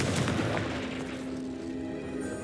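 A Confringo blast spell in Hogwarts Legacy erupts into a rumbling explosive boom that fades over a couple of seconds, fairly muted.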